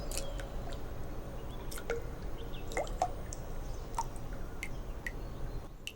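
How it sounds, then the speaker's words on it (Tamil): Water is scooped and poured by hand into a broken toilet with no working flush, giving scattered drips, splashes and wet squishy sounds against a quiet indoor background. "அந்த ஃப்ளஷ் மட்டும் வேலை செய்யாது, கொஞ்சம் தண்ணி மோந்து ஊற்றிக்கிறீங்களா?"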